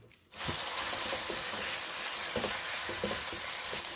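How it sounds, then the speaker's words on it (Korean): Duck meat sears in a hot pan, a steady loud sizzle and crackle of rendering fat that runs throughout, with occasional soft stirring scrapes and no talking. "미리 이렇게 고기만 팬에 좀 덮어서 기름을 빼줍니다"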